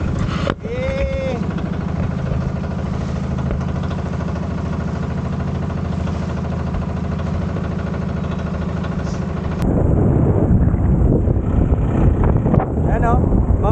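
Strong wind roars steadily across the microphone during a boat ride on a lake in Buhi, Camarines Sur, with a low engine drone underneath and louder buffeting gusts toward the end.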